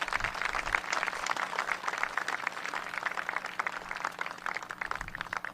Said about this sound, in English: Let's give Brandon a round of applause tonight.